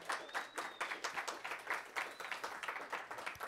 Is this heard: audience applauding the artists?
yes